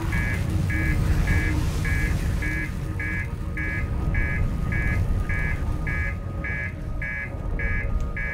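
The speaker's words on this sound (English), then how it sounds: "Oh, that would be the master alarm." Master alarm in the Outer Wilds video game, a steady repeating electronic beep pulsing about every third of a second, loud and continuous over a dense low rumble of engine noise.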